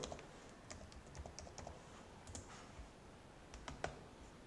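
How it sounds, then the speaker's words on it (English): Quiet, rapid computer keyboard typing with soft, irregular key clicks over faint background hiss, heard alone without talk. "So type the root password."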